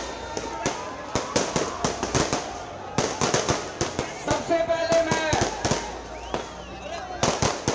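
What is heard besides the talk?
firecrackers exploding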